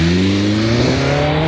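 A BMW S1000 RR sport motorcycle engine revs loud and close on an open road, its pitch climbing smoothly in a brief, sustained high-rpm whine.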